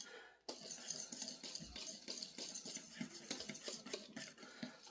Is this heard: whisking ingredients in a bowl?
yes